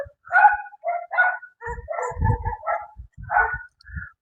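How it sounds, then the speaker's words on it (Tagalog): Several dogs bark repeatedly near a government housing site, with overlapping yaps and woofs in an uneven, excited rhythm that comes through close and clear. "Dami aso."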